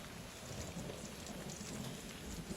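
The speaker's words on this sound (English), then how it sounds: "Hodor doesn't like thunder, that's for sure." Steady rain pours down in a storm with low thunder rumbling underneath, a dense, constant wash of sound throughout with no voices.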